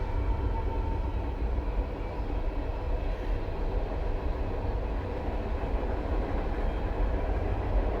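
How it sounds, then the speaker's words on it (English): A train rumbles past on tracks right beside a home at night, a loud, steady, continuous roar with faint clickety-clack running through it and no break. "a train is coming. It's really loud."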